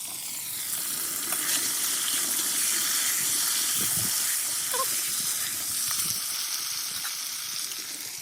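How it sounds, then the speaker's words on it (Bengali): Potatoes fry in hot oil left from frying fish, cooked on a single stove in a new house, giving a steady, fairly loud hiss with faint crackles and no talking. "মাছের তেলে মাছের আলুগুলো ভেজে নেবো"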